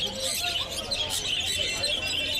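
Sun conure parrots chatter and screech continuously at the Galiff Street bird market in Kolkata in winter, a busy layer of high calls from many birds close by.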